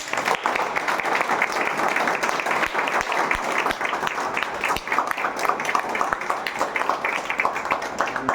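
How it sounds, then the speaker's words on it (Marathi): An audience claps loudly and steadily throughout a felicitation ceremony at an achievers' celebration, a dense, continuous round of applause with no talk over it. "त्यासाठी परत एकदा त्यांच्यासाठी जोरात टाळ्या वाजवा"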